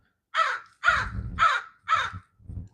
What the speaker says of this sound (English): The crows, if you ain't know. The corvids.